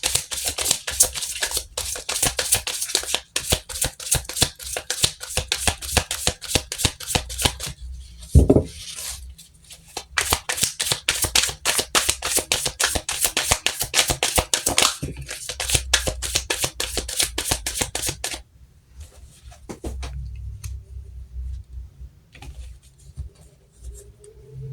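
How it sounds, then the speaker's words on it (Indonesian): Tarot cards are shuffled by hand in quick, close bursts of papery flicks and riffles, broken by short pauses and a soft knock, then quieter shuffling at the end. "kita shuffle kartunya"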